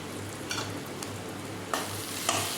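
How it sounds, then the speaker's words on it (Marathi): Onion and tomato frying with red chili powder and turmeric, a faint steady sizzle with a few light stirring scrapes. "आता हे कांदा टोमॅटो छान फ्राय झालेलं आहे तर यामध्ये टाकणार आहे मी थोडंसं लाल तिखट आणि हळद"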